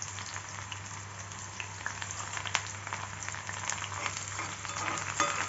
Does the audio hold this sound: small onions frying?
yes